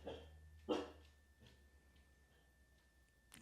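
A dog barks once, a single sharp yelp during a yoga session, then a fainter bark follows, with quiet room tone and a soft thump at the end.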